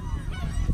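A bird on a beach gives a short, hoarse goose-like honk at another bird, fairly near, over windy outdoor rumble.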